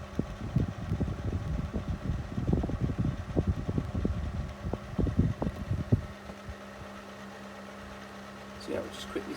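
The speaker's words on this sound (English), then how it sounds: "One thing I've always liked about Xpelair Taurus fans is that they have a very distinctive sound to the motor" An Xpelair Taurus desk fan motor runs with a steady hum, with someone talking over it for the first six seconds before the drone continues alone.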